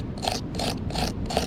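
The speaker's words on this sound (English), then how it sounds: "So I'll just scrape up a bit of charcoal." Charcoal is scraped up by hand to make a fine fire-starting powder, producing four evenly spaced rasping strokes that are close and fairly quiet.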